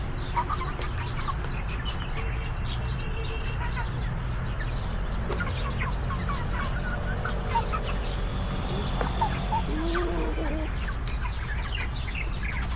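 Backyard chickens raised by an overseas worker in Taiwan cluck and chirp lively over a constant low hum, with a voice talking throughout.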